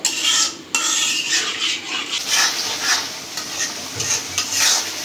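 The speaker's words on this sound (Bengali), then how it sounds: "রোস্টের মশলাটা কষানো হয়ে গেছে, ভালো করে কষাই নিলাম।" Roast masala spices and yogurt are stir-fried in a pan. Repeated scraping strokes of a spoon ride over a constant close sizzle, with no voices.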